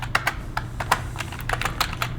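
Typing on a computer keyboard while filling in a table in OneNote, a quick irregular run of close, crisp key clicks with no talking.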